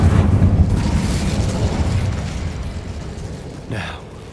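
An Incendio fire spell goes off in Hogwarts Legacy as a loud, roaring whoosh of flame. The burst starts strong and slowly fades over several seconds, and a short flare comes near the end.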